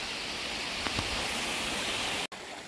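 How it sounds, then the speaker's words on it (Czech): A small creek, No Name Creek near Dunsmuir, flowing steadily, a close, even rushing hiss of water that fills the whole clip, with a brief cut just before the end. "A tenhle potok se jmenuje"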